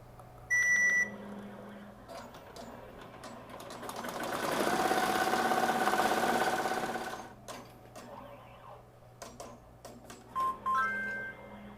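A Melco SUMMIT embroidery machine stitches a zipper makeup bag, with electronic beeps first, then a rapid buzzing stitch run that swells and fades over several seconds, followed by clicks, thumps and more short beeps.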